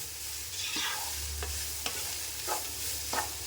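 Stir-frying in a pan for chicken fried rice, a soft continuous sizzle broken by several quick scraping spatula strokes at an uneven pace, close and clear, no voices.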